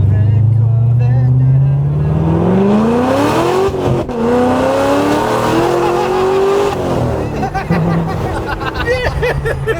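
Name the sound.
Corvette wheels spinning, tires squealing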